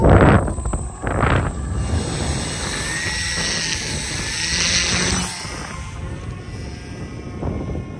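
Electric motor of a V-tail pusher FPV model plane with a 12x8 prop, flying over a field; a steady, distant buzzing whine drifts slightly in pitch, mixed with microphone wind rumble.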